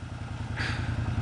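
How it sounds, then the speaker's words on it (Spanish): A motorcycle engine idles nearby with a steady, throbbing low rumble, a brief hiss rising over it partway through. "súbete a la moto"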